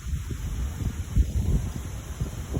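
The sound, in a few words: strong wind before a thunderstorm over Lake Michigan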